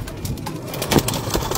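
Pigeons at a loft fly overhead, with soft cooing, faint wing flutters and scattered birdcalls over low background noise, moderately close and without speech.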